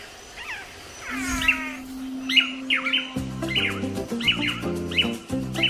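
Tangará manakins in the Atlantic Forest give a series of clear, close chirps and buzzy calls, with a sustained tone and then repeated stacked notes in a quick rhythm.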